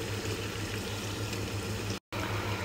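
Shredded cabbage frying in a pan with curry spices and salt, giving a steady, close sizzle with no voices.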